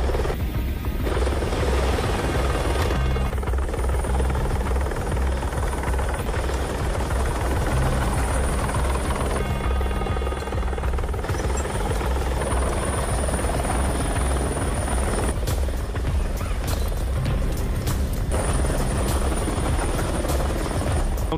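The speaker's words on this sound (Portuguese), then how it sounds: "São 3 helicópteros. Tem um aqui em cima." Three helicopters flying overhead in a city, with rotors chopping in a continuous loud, dense roar that holds steady for the whole stretch with no talk.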